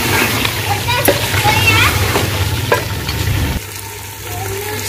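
Curry (saalan) sizzles and fries in a cooking pot, a steady hissing crackle with occasional stirring clatter, close and loud, while someone talks over it before the sizzle drops off near the end.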